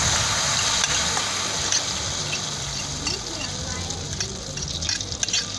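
Chicken wings frying in hot oil in a pot, a steady broadband sizzle with fine crackles running throughout at moderate loudness, with a voice talking over it.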